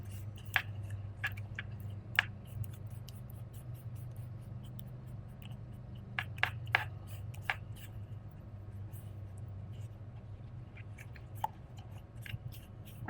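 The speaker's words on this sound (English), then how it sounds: "I'm trying to break up all of these little blops of powder in here. Mix them in." Dental stone powder being stirred with water into a thin putty, giving faint soft squishing and scraping with scattered sharp clicks of the tool against the bowl over a low background hum.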